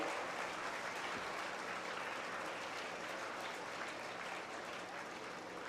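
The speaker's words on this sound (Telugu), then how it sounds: "వాళ్ళందరూ చప్పట్లు కొట్టాలి" An audience claps steadily through the whole stretch, a dense, even wash of hands at a spiritual and service fair in Hyderabad, with no voices rising above it.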